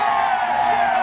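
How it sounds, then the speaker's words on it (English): A crowd cheers and roars in a steady, dense wash of voices, a stock sound effect for a car race animation, with no talk over it. "the crowd on my recording here is absolutely crazy"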